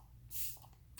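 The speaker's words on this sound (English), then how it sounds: "One spray." A single short burst of Chanel Sublimage setting spray, a soft airy hiss lasting under a second, close and quiet, followed by faint rustling.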